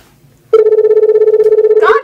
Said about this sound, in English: this phone doesn't stop ringing